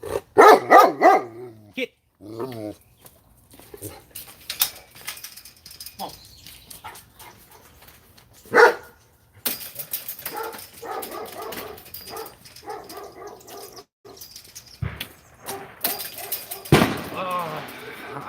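A pet dog barks repeatedly in bursts during Fourth of July fireworks, the yaps close and loud amid a person talking, with sharp bangs and clatter scattered through the scene.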